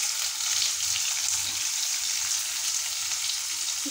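Onions frying in hot oil give a constant close sizzle, a steady crackling hiss with no breaks. No voices are heard over it.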